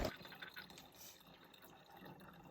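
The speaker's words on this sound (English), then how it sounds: "Filtering water from the water tank." Water is filtered from a water tank beside a hiking trail, a quiet steady trickle and drip of liquid after a brief louder clatter at the start, with no talk.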